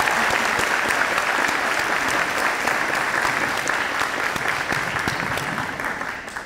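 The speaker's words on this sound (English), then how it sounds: "Let's give her a round of applause" Sustained, dense applause fills the room for a player's mother at a high school letter of intent signing, staying loud and even before easing slightly at the end.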